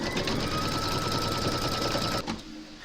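A sewing machine runs a steady, close, rattling stitch on reindeer slippers at slow speed for about two seconds, then stops and leaves a faint hum.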